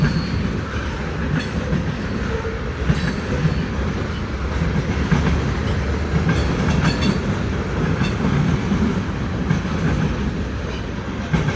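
A westbound CN freight train with double-stack and mixed freight cars passes close by at a street crossing in Dorval, giving a continuous heavy rumble with rhythmic wheel clatter and occasional faint squeals and no speech.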